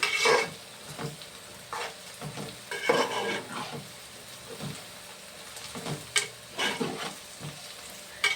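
Shredded shark fish puttu fries in oil in a pan while a ladle stirs it, producing a constant close sizzle broken by repeated scraping strokes against the metal.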